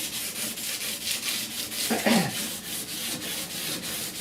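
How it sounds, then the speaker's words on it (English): Steady back-and-forth scuffing of 80 grit sandpaper on a 1969 Chevrolet C10 truck windshield, with rhythmic rubbing strokes about every third of a second, close and fairly quiet. "It's going to take some 80 and go over it right quick again, just to scuff it up really well."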